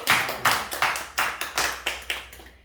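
A church congregation claps for an elder who returned to worship after recovering from COVID, a series of about nine distinct, evenly spaced bursts of handclaps, fairly close and loud, ending in a quiet tail.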